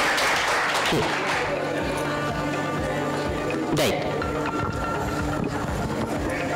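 Audience clapping at a Khel Paithanicha women's game show held at the Devi Mauli temple in Kolzar: a steady, dense wash of applause running throughout, with a voice talking over it.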